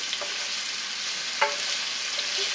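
Peppers and onions sizzling in a pan, a steady close hiss with occasional stirring scrapes and a sharper clink partway through, no talking.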